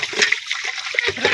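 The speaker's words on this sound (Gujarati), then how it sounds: "ચલો મિત્રો પાણી ભરી લઈએ" Tap water gushes and splashes steadily into a bucket at a school during summer, a close, continuous rushing pour.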